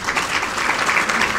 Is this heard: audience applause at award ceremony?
yes